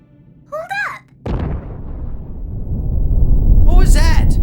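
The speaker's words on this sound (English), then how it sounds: "What was that? An explosion." A loud explosion erupts in an anime scene, a sudden blast at about a second in that rolls into a sustained, building rumble, with dialogue voices before and after it.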